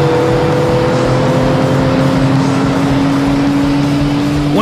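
Nissan GT-R and Porsche GT3 sports cars on a racetrack, a steady loud engine drone with sustained tonal whine held throughout, rising slightly in pitch near the end.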